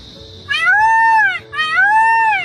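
A man mimics a peacock's call with his voice, giving two loud, drawn-out wailing cries with a rising-falling shape, one after the other, close to the microphone.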